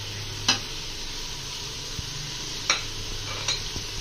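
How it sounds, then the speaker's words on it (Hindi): Spices and beef frying in a pot for mash daal gosht, a steady hiss of sizzling with a few sharp spoon scrapes and knocks against the pot as the mixture is stirred, no voices. "अब जो मसाले हमने डाले हैं इसकी अच्छी तरह हमने गोश्त के साथ बुनाई कर लेनी है।"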